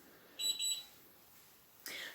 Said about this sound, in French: Donc une fois qu'il est chaud, il y a un bip bip qui se met.